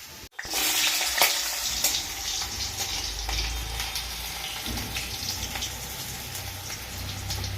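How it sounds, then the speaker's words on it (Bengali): Potatoes frying in a pan give a steady, close crackling sizzle that begins with a sharp hiss, with brief pops scattered through it and a low rumble underneath. "আলু ভাজা করবি"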